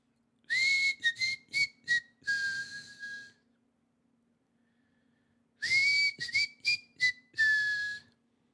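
A person whistles alone in a prison cell: a close, clear burst of short rising and falling notes ending in a held tone, then silence for a couple of seconds, then the same tune repeated.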